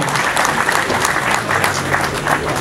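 A crowd at a French enduro championship event applauds a multiple-winning enduro rider, with loud, dense, continuous clapping close by and a few voices in the crowd.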